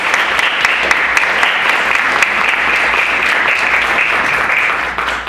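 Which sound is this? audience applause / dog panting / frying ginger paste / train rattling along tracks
audience applause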